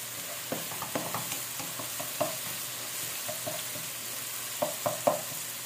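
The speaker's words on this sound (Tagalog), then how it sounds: "lulutuin lang natin tong ating kamatis" Tomatoes cook in a pan with a soft continuous sizzle, broken by several light scraping taps of a utensil stirring, fairly quiet and close, with no voices.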